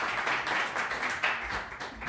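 Audience applause at a live jazz gig in a lounge, a dense round of clapping from a modest crowd, fairly close and steady throughout with slight swells.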